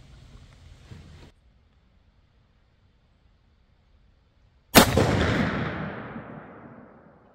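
A single sharp blast from a .50 caliber muzzleloader firing a PowerBelt AeroLite bullet with a 209 primer, loud and sudden after near silence, trailing off in a long rolling echo outdoors.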